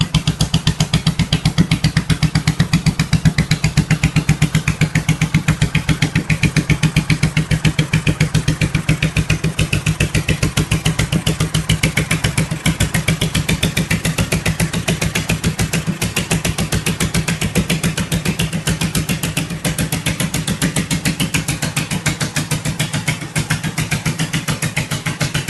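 A custom Rag & Bone motorcycle known as the Silver Bullet idles and runs steadily, its engine close and loud with a continuous rapid pulsing throb and no voices.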